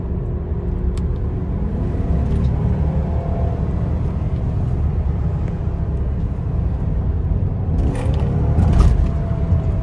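Lexus GS400 with a tune-up-worthy engine accelerating in manual mode, a steady loud engine drone heard from inside the car that rises near the end as the revs climb.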